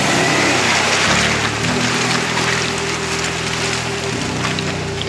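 A Jeep Gladiator Rubicon revs as it works through a mud puddle off-road, its engine droning loud and steady with pitch shifts as the throttle changes, under a hiss of spray or splashing.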